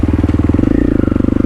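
A trail motorcycle climbs a mountain path in second gear, its engine thumping in a fast, even pulse, loud and close, with no other sounds.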